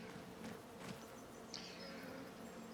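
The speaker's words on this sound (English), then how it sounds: "Bees must have them a hive in that old car there." Bees buzz from a hive inside an abandoned old car in the video game Farming Simulator 25, a steady close insect drone with no talking.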